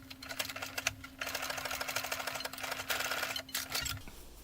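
A sewing machine runs a zigzag stitch on a fabric face mask in quick rattling bursts, pausing briefly in between, close and fairly quiet, with a low motor hum underneath.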